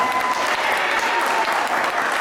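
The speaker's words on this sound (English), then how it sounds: "Give her a hand clap." A crowd at a women's high school basketball charity game applauds steadily, a loud, dense wash of clapping that holds at an even level without a break.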